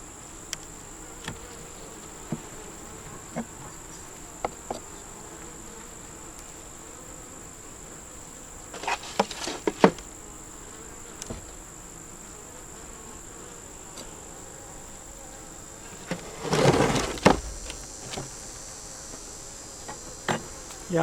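Honey bees buzz steadily around a hive, droning throughout with a few louder passes and brief bursts of activity, a continuous hum close by with no talking.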